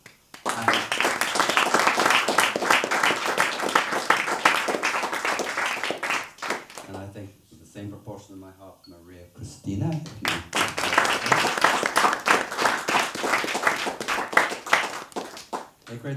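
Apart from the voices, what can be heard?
audience applause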